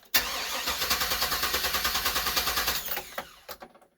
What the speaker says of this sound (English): That was his sound. Crank, crank, crank, no start, not even trying to start.